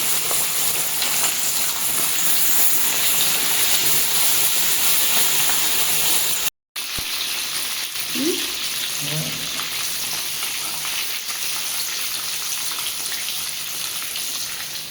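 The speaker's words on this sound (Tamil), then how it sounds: "க்ளோஸ் பண்ணி வச்சுருந்த சிக்கனை ஃப்ரை பண்ணி எடுத்துக்கலாம்." Marinated chicken for chicken tikka biryani fries in a pan with a loud, steady, close sizzle that continues throughout, broken only by a momentary cut.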